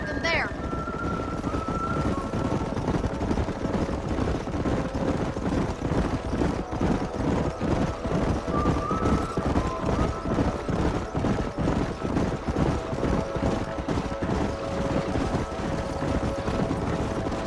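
Horses' hooves clip-clop steadily across open ground in the Red Dead Redemption western game, a continuous rhythmic patter under wind and ambient noise, with a short spoken line near the start.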